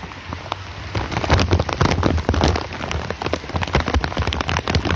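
Heavy rain pours steadily in the hills, a dense, loud wash of drops drumming on surfaces with countless close splatters, continuous and without any voices.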